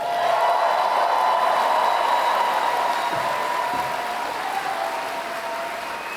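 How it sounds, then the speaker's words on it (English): Comic Con panel audience applause for the Mythic Quest cast in a large hall, a sustained wash of clapping and cheering that slowly fades, broad and reverberant. "did I wait long enough for the applause to swell?"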